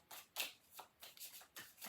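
A quick riffle shuffle of tarot cards, several short papery bursts in an uneven rhythm, close and fairly quiet.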